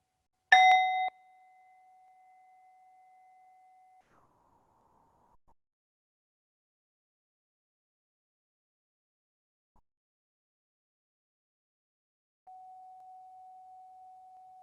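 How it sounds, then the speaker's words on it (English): A meditation bell is struck once with a sharp metallic ding, then a pure, steady tone lingers for a few seconds before fading into silence; a similar soft tone returns near the end. "So really put your attention on the bell and the sound of the bell"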